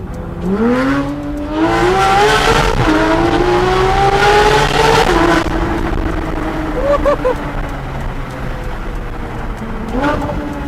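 Close, loud Porsche GT3 RS engine with intake and exhaust mods revving up through rising pitches with a raspy exhaust note, then settling and blipping again near the end.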